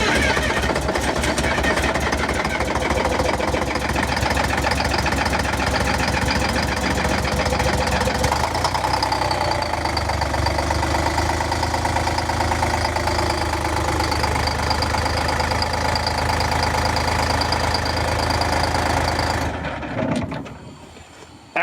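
A diesel bus engine cold-starts and idles loud and close, a rough rhythmic chug with uneven misfiring beats from missing cylinders, running steadily before cutting off near the end.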